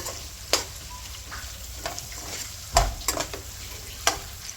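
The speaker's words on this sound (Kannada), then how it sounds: "ಈರುಳ್ಳಿ ಹಸಿ ವಾಸನೆ ಹೋಗೋ ಗಂಟ ಹುರ್ಕೊಳ್ಳೋಣ." Onions stir-fry in a pan for egg paneer fried rice, with a steady low sizzle broken by sharp spatula knocks against the pan at irregular intervals.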